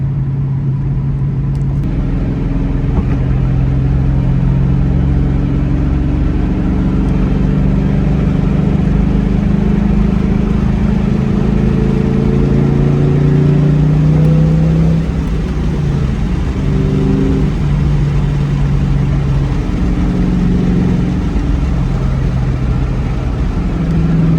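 Steady, loud engine drone from a New Edge Ford Mustang while driving, with low rumbling tones rising and falling as the car shifts and accelerates, continuous throughout.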